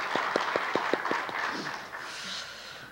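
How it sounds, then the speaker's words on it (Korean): Church congregants clap for their orchestra during a Sunday service, a short run of about eight distinct, evenly spaced claps up close, then a softer patter that fades into room noise. "우리 관현악단에게 수고의 박수 부탁드리겠습니다"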